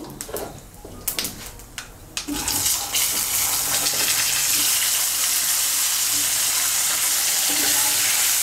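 Cut potatoes tipped into hot oil with whole cumin and chilies set off a sudden, loud sizzle after a few seconds of clatter, then the frying hiss holds steady and strong to the end.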